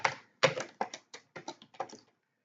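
Rapid, uneven taps on a computer keyboard as commands are typed during a software setup, about a dozen close, crisp keystrokes in quick bursts, with no talking.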